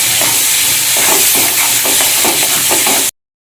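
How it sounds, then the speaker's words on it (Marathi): Masala paste for Afghani egg curry fries in a pan with a loud, steady sizzling hiss throughout, broken by faint stirring scrapes and small crackles, then cutting off abruptly. "हा जो मसाला तयार केलाय तो घालायचा आहे। छानपैकी भाजून घ्यायचं आहे."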